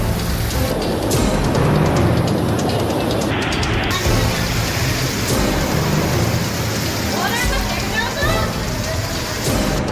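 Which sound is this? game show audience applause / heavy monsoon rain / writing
heavy monsoon rain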